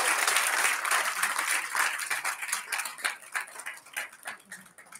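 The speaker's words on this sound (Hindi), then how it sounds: "एक बार पूरा सदन जोरदार तालियों से मैं शर्मा जी का देना चाहूंगा।" Loud audience applause at a Hindi Diwas kavi sammelan fills the hall, dense at first and then thinning into scattered claps as it fades over about five seconds.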